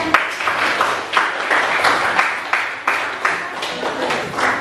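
Students in a high school chemistry class give a round of applause for a classmate, a steady patter of many hands clapping in a room, lively and fairly close, with faint rhythmic swells.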